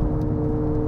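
A Hyundai Ioniq 5 N race car accelerates on a track while its N Active Sound system produces a synthetic engine note, heard inside as a loud, dense, close whirring drone for a brief moment.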